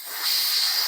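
A steady, close hiss of compressed air blowing behind a flux-core weld, rising slightly after a moment and holding constant with no voices.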